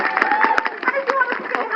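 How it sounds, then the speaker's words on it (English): Audience applause at a sea lion show at West Midlands Safari Park, a crowd clapping in a steady patter for about two seconds with a presenter's voice carrying over it. "We also give Jack one big round of applause to finish us off."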